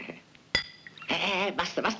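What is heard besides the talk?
drinking glasses clinking in a toast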